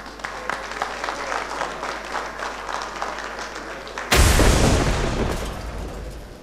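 Audience applause for the Member of Parliament for Central Manchester at a tax administration business event: steady dense clapping that suddenly surges into a louder, rougher burst for the final couple of seconds.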